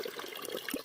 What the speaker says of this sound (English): This water's coming right out of the rock.